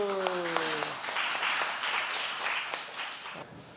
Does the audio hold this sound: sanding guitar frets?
no